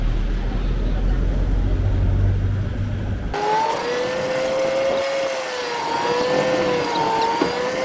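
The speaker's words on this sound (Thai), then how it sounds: "เป็น รถบริการนะฮะ รถสองแถว เป็นรถตรงนี้ไปนะฮะ" Engine of a songthaew passenger truck runs at close range, a low rumble giving way to a steadier drone with whining tones as the vehicle moves along.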